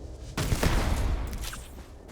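Turret gunfire in the sci-fi game Starfield: Shattered Space, an abrupt loud burst of rapid overlapping shots that rattles on for over a second before tapering off, heard alone.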